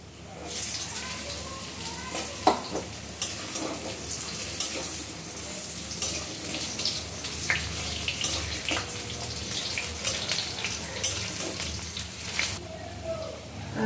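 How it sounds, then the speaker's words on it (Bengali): Steady sizzling and crackling of cut potatoes frying in hot oil in a wok, with occasional scraping clinks of a utensil stirring in the pan. "ফোড়নটা একটু নাড়াচাড়া করে নিয়ে আমরা কড়াইয়ের তেলের মধ্যে প্রথমে কেটে রাখা আলুগুলো দিয়ে দিচ্ছি"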